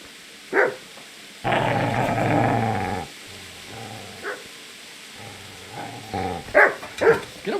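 A dog in the video game Kingdom Come growls in a long, loud, sustained rumble, followed by several short barks and yips at moderate distance, with no talk over it.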